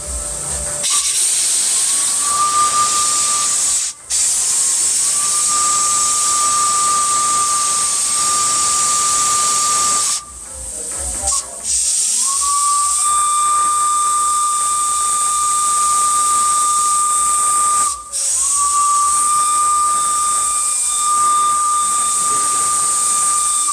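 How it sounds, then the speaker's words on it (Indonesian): A steam locomotive, stopped over a fault, hisses loud continuous steam throughout while its whistle blows several long steady blasts with brief gaps between them, close and dominant, with no voices. "barusan juga dibunyikan peluitnya"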